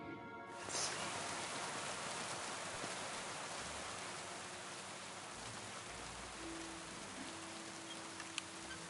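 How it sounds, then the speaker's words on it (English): Rain in the game Kingdom Come: Deliverance II falls steadily, a soft continuous hiss of drops that starts abruptly and stays even throughout, faint and with no voices. "It's raining"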